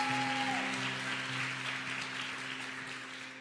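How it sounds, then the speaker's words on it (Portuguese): A church congregation at a Sunday service claps for a pastor called up front, a steady, moderately loud patter of many hands over a sustained keyboard chord, with a short held tone at the start. "aplauda o Senhor na vida do pastor Natal"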